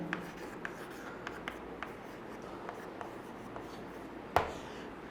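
Marker or chalk writing on a classroom board during a chemistry lesson, faint scattered scratches and taps with one sharper knock near the end, quiet and without speech.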